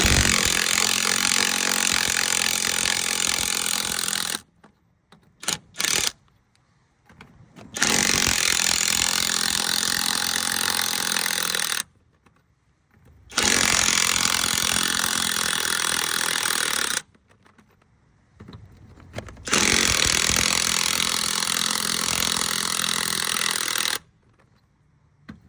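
An ALLOYMAN 20V cordless impact driver runs in four long, loud bursts of rattling, buzzing hammering, each separated by short silent pauses.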